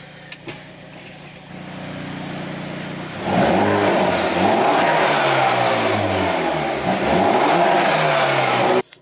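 A Hyundai Veloster N with a stage one tune cranks and fires up, then revs loudly at close range, with the engine note rising and falling over a steady low exhaust drone.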